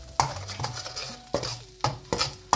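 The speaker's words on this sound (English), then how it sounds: "Stir the eggs very well until they become small pieces." Eggs for Sri Lankan Chinese-style fried rice are stirred in a hot pan, a few sharp metal scrapes and clinks of a spatula over a faint sizzle, close and brief.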